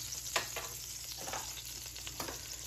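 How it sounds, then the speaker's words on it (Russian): Butter melting into a little hot vegetable oil in a preheated frying pan, a soft, steady sizzle close by with a few faint crackles and no talk. "Затем выкладываем сливочное и пусть немножечко растопится."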